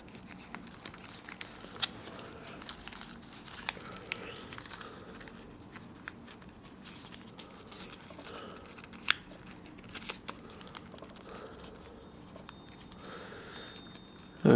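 Paper is creased and folded by hand into an origami kangaroo, giving faint close crinkles and small sharp snaps scattered across a quiet stretch.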